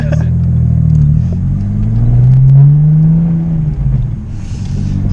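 A B5 Audi S4 engine with an aftermarket downpipe revs up and down with a deep, throaty exhaust rumble, loud and close, swelling in the middle before easing off.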